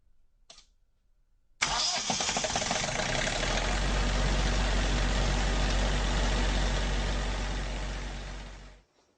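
A diesel generator in an off-grid power room cranks and fires up at the flip of a switch, then runs loud and steady for several seconds before cutting out.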